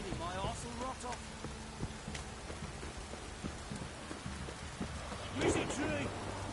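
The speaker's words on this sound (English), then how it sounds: "Stop raining, my arse will rot off." Rain falls steadily in the video game The Witcher 3, a soft continuous patter behind brief game sounds, with someone talking over it.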